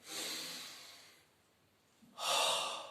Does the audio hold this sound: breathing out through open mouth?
yes